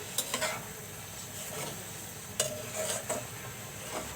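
Shrimp going into a pan with black kochu (taro) greens, a soft sizzle with stirring and light scrapes and clinks of utensil on metal, fairly quiet and close, no voices.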